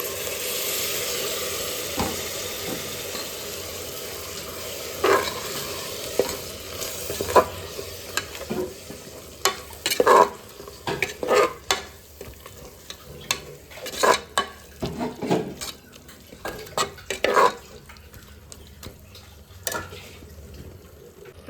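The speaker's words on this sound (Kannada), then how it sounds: "ಚೆನ್ನಾಗಿ ಫ್ರೈ ಆಗಲಿ." Ingredients for avarekal bath fry in a pan while a spoon stirs and scrapes, a soft background sizzle broken by repeated clattering strokes and knocks against the metal, no voices.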